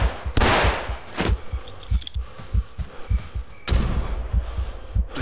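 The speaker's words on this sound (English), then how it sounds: "I throw a grenade, yeah." A grenade explodes in a video game with a loud, broad blast, followed by heavy thumps and bursts of gunfire, then another big explosion near the end.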